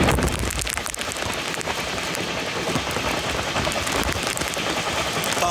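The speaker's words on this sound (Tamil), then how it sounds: "பட்டை கிளப்புதுங்க மழை." Heavy rain pours steadily during a journey on the Westcoast Superfast Express train from Chennai to Coimbatore, a dense, continuous hiss of downpour mixed with rumbling travel noise and no pauses.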